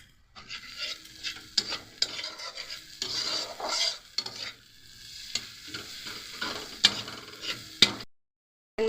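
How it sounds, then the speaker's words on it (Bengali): Mustard masala for hilsa fish being stirred in a wok over a low flame: a spatula scrapes and clinks in irregular strokes over a faint sizzle, then goes quiet at the end. "বেশিক্ষণ কিন্তু নাড়বো না, হালকা পরিমাণ নাড়লেই হবে।"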